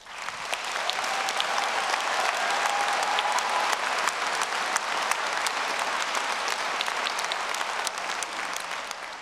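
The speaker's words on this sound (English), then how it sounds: "please, take a moment to give yourself a well-deserved round of applause" Sustained applause from graduates filling a hall at a university graduation ceremony in Edinburgh, dense steady clapping throughout with no pauses.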